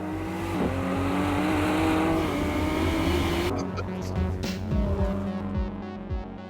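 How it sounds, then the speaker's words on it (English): A twin-turbocharged V6 engine of about 647 horsepower drones loud and close with a rising whine, then breaks into rougher revving and throbbing as the pitch shifts, with a voice speaking over it. "Then there's the twin-turbocharged V6 engine."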